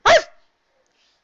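A human voice imitates a single dog bark, one short, loud, close "ruff" followed by silence.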